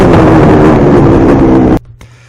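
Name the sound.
Maico 700 dirt bike engine at wide open throttle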